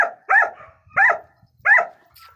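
A heavy-boned male Gultair dog barks three times, deep and loud, each bark well spaced with short silences between.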